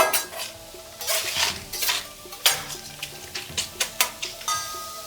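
A spatula scrapes and taps on a flat-top griddle while seasoned taco meat cooks, sharp clanks and stirring strokes over a faint sizzle, close and alone.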